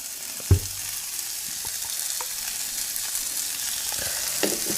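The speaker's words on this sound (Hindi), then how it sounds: "मसालों को हम अच्छे से भूनेंगे ताकि मसाले का कच्चापन निकल जाए" Spices and peas roasting in a pan over a medium flame give a steady, close frying hiss throughout, with a sharp clatter near the start and a few faint stirring knocks.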